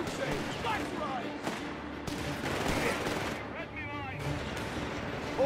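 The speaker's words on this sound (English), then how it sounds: "Heavy machine gun has been deployed for you. Vickers HMG here." A Vickers heavy machine gun firing in Company of Heroes 3, sustained bursts of fire mixed with battlefield noise and unit voice lines, moderately loud throughout.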